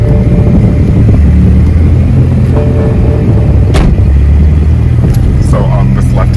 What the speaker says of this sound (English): go ahead and start your car